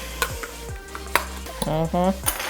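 A spoon stirs food in a pot with melted butter, scraping and clinking against the metal in several distinct strokes over a low sizzle, close and fairly loud with no voices.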